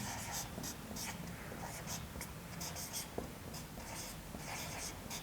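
Chalk or marker scratching across a classroom board during a Hindi history lesson, a steady run of short strokes under a constant hiss of room noise.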